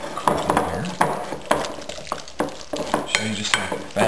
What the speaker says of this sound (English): just go ahead and mix it together. Um, mash the cheese.